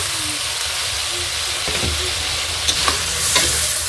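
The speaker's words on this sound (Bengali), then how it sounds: "এখন আরো 1 মিনিট ভেজে নেব।" Stem vegetable pieces and potatoes fry in a spiced masala, sizzling steadily up close, with a few scraping stirs and clinks toward the end, and no talking.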